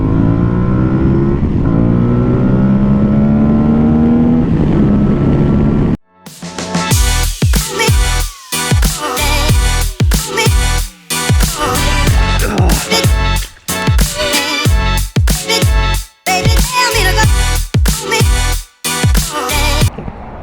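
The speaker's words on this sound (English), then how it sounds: "We're out here demoing the Tuareg 660 from Aprilia" Aprilia Tuareg 660 motorcycle engine on a test ride, first a steady droning rise in pitch, then a brief cut followed by loud, choppy revving with repeated gear shifts and wind rush, close to the rider.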